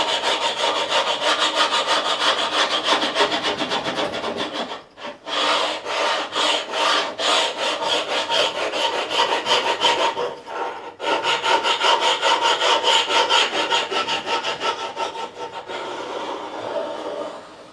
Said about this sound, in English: I'm just going to scrape away the old glue